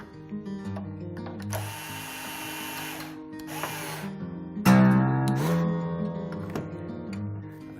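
A Martin acoustic guitar string is wound around its tuning post, with close mechanical cranking and ratcheting plus ringing, pitched string tones that shift as the string tightens. One sharper clank stands out midway.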